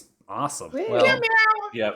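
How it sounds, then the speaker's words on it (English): A cat meows at the start of a live session, a brief close call quickly followed and overlapped by excited voices cheering and talking. "Whoa, that was a cat."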